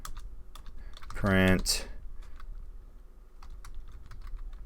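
Rapid typing on a computer keyboard while coding Python, a quick burst of close key clicks that rises briefly, with a single spoken word and quiet room tone around it.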